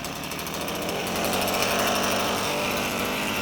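A two-stroke scooter engine running roughly just after a smoky cold start, giving a loud, close, rattling buzz that holds steady with a slight swell in intensity midway.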